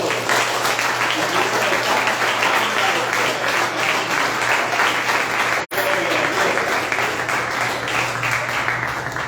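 Church congregation applauding for God, a steady sustained clapping that fills the room at close range, with a brief dropout midway and a faint low hum underneath.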